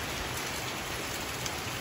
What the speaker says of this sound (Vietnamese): Mưa lớn.